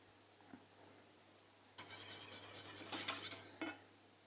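A metal whisk stirs a vanilla powder mixture in a pot, a brief burst of scraping and clinking against the pot that lasts a couple of seconds after a quiet start.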